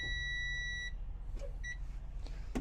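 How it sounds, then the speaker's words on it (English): A 2022 Jayco Seneca 37M RV dashboard sounds a steady electronic air-brake pressure warning beep, long at first and then a shorter repeat, over low engine rumble. "when you hit the brake, it'll start beeping at you for air"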